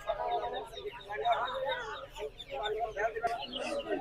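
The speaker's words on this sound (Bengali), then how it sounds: "দেখতে পাচ্ছেন যে আরো অসংখ্য মুরগি রয়েছে এদিক দিয়ে" Chickens cluck and chatter at a poultry market where ducklings are also sold, fairly faint and mixed under someone speaking nearby.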